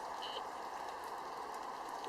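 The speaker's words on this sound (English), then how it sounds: "It's probably just all the droplets falling" Water droplets fall from hawthorn trees onto a tent after rain, a soft, steady patter of scattered drips close by, continuous and fairly faint.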